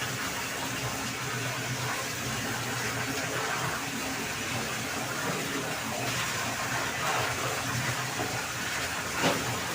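A quilt being rinsed in water at home makes a steady, close splashing and rushing sound. It runs continuously at an even level throughout, with no talk over it.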